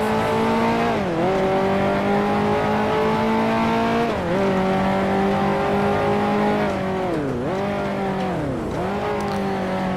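Loud, close 1955 Formula One race car engine in Grand Prix Legends at the British Grand Prix, holding a steady high whine with repeated dips and rises as the driver shifts and lifts through corners.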